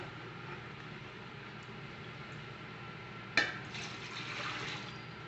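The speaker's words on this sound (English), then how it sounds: "So now we're simply gonna fill our pot up." Water runs steadily from a tap into a canning pot in a home kitchen, a low continuous rushing stream, with a sharp metallic clunk partway through followed by brighter splashing.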